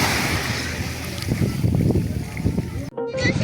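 Steady broadband rush of fairly strong sea waves and wind at a beach in Lian, Batangas, with boat and water sounds, a person talking underneath throughout.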